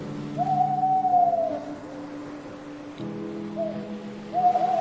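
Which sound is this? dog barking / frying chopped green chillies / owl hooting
owl hooting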